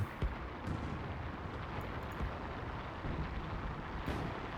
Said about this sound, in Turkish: artillerimiz geldi